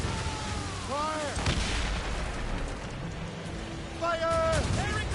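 Ship cannons fire in the video game Assassin's Creed Rogue, a couple of deep booming blasts heard mid-distance among shouted voices and swelling battle noise, the last reports landing close together near the end.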